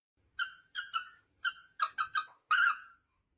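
A pet parrot sings a tune as a string of short, clear whistled notes in an uneven rhythm, the last one longer and louder, close to the microphone with no talking.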